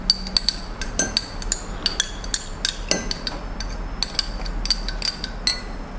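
Spoon scraping evaporated milk from a metal can, a rapid, irregular series of sharp metallic clinks and scrapes, close and fairly loud, with no talk.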